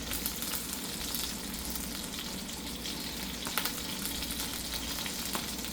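A chicken, shrimp and sausage gumbo mixture steadily sizzles and bubbles in a pot while being stirred, a continuous moderate frying hiss with occasional soft scraping clicks, no voices.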